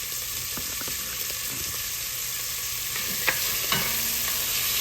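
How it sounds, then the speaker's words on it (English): Celery and onions sautéing in a pot give a steady, bright frying hiss, with a few soft stirring clinks and scrapes toward the end, no speech. "I'm gonna throw my celery and onions in there. I'm gonna cook all that off till it's translucent"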